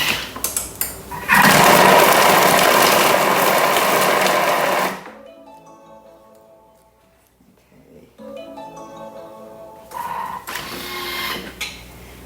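A Thermomix chops vegetables for a Bolognese at speed 5 for about 3 seconds, a loud steady whirring blade roar that starts abruptly and cuts off, with quieter kitchen clatter before and after.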